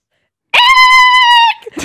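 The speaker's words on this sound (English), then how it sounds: "Could you give the audience at home one of your iconic screams?" A person lets out a single loud, high-pitched scream, sustained for about a second and heard on its own, with silence before it and a brief breathy trail after.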